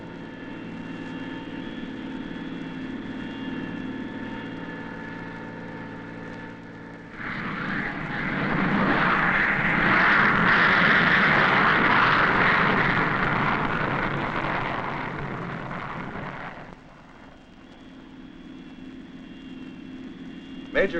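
A supersonic Air Force jet flies overhead, its roar swelling from a steady background hum into a broad, loud rush that holds for several seconds before fading back.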